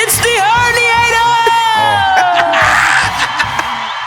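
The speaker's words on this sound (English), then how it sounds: "The crowd goes wild." Loud crowd cheers, whoops and high yells rise in a ring-walk style burst, with voices shouting and screaming continuously close up, the pitch of one long whoop sliding downward.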